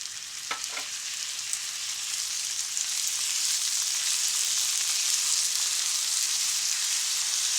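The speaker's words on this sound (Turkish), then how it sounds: "içerisine bir çorba kaşığı kadar soya sosu ilave ediyoruz" Chicken sauté sizzling loudly in a pan after a tablespoon of soy sauce is added, a few brief stirring clinks at the start, then a steady, bright, continuous hiss.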